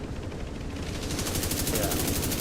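Rapid automatic gunfire rattles continuously in The Division 2 shooter game, a dense stream of shots that builds slightly louder toward the end, with no voice over it.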